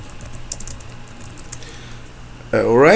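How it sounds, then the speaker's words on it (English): Close keyboard typing, a run of light, quick key clicks at moderate volume, followed at the end by a burst of speech. "I will type goals at MECC"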